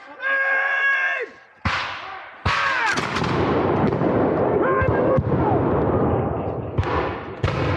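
War reenactors fire musket volleys on an open field: a shouted command, then loud, ragged crackling gunfire with overlapping reports and echoing booms, more shots following irregularly amid distant voices.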